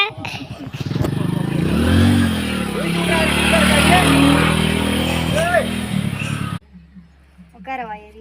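A motorcycle engine runs loudly and steadily with some revving, voices talking over it, then it cuts out abruptly near the end.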